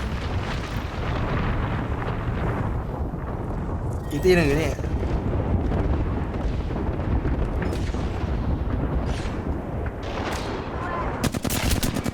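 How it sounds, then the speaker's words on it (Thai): Artillery strike explosions in the video game Apex Legends, a continuous barrage of booming blasts and rumbling impacts with a sharp burst partway through, under a player's talk. "ระเบิด"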